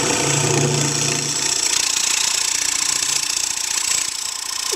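A scraper on a wood lathe cuts across a spinning candlestand tabletop, making a steady, loud, continuous rasping hiss with a constant machine drone underneath, unbroken for the whole stretch.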